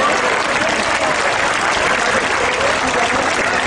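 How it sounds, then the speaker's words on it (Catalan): An outdoor Sant Pere festival crowd in Reus applauds the Orquestra Internacional Maravella, a loud, dense and continuous roar of clapping that fills the whole stretch without pause. "un aplaudiment per ells, sisplau."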